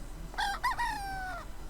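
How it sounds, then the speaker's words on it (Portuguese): A farm rooster or hen gives a single loud, drawn-out crowing call of about a second, rising and then trailing off, alone with no talking. "Galinha."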